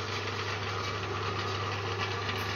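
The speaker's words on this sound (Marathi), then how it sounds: "मोटरला पटापटा पळतय." The motor of a wheat crushing machine runs steadily with a loud, even drone and a constant low hum, no talk.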